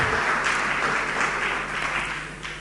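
An audience claps steadily and loudly for about three seconds during a Spanish-language talk, the dense broadband applause continuous from start to finish with no voices over it.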